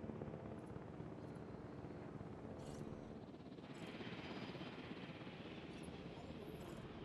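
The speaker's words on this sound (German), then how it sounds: "So, da kommt der Heli." Helicopter arriving in the dinosaur park game Jurassic World Evolution, a steady rotor drone held at an even level throughout with a faint brief voice over it.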